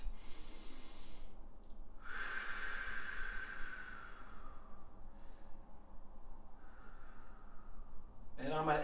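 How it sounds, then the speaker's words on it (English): A deep, drawn-out breath in and then a long, soft exhale during a floor fascia stretch, quiet breathy hiss close to the ear with a brief sharper sniff at the end. "I'm going to take a nice big breath."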